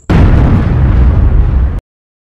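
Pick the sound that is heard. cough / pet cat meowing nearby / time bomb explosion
time bomb explosion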